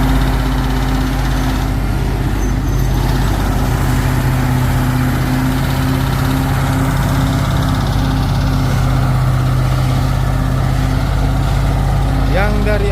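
A Fuso trailer truck loaded with steel reverses on a hill, its loud diesel engine droning steadily and close throughout, with voices talking over it.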